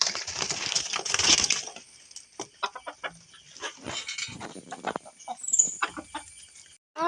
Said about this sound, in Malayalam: അപ്പം നമ്മുടെ കോഴികൾ, ഇതാണ് ഞങ്ങളുടെ ആദ്യത്തെ കോഴി